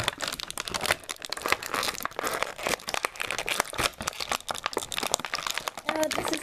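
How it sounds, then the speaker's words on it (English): Stiff plastic doll packaging crinkles and crackles in rapid, irregular bursts as a doll is pulled out during unboxing, loud and close, with a voice speaking intermittently. "They made a Delilah so hard to get out of her package."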